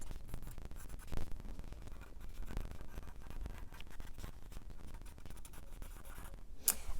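Pencil scratching steadily across paper while tracing over the outline of a drawing, close and continuous with small bursts of pressure and one brief sharper scrape near the end.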